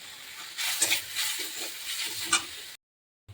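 Chopped jute leaves frying in a pan give off a soft, steady sizzle with faint stirring scrapes, then cut to silence near the end.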